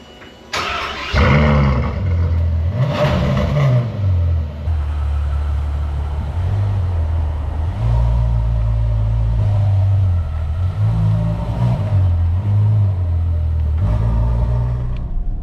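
A Ferrari F12 Berlinetta V12 is started and revved repeatedly, with several loud, close blips that rise and fall over a steady deep idle.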